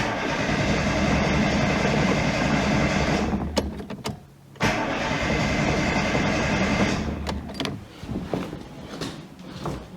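A stalling ZAZ Sens car engine cranks as someone tries to start it. Steady mechanical whirring and grinding runs for several seconds, breaks off briefly and then resumes, loud and close, with no voices.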